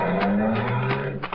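A car pulls away from a gateway, its engine and tires giving a short, close, tonal rush with a few sharp bursts, heard alone without voices.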